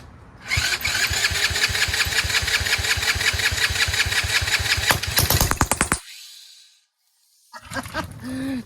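A Chinese 125cc ATV quad cranking hard with a rapid rhythmic starter chug for several seconds, cutting out abruptly to near silence, then sputtering again briefly.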